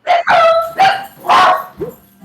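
Several dog barks and yips in quick succession, loud and close, trailing into a short whimper, with no talk over them.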